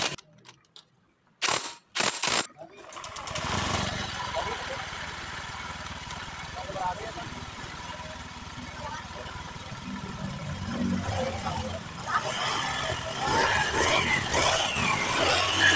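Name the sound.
Honda Beat FI scooter engine running after rebuild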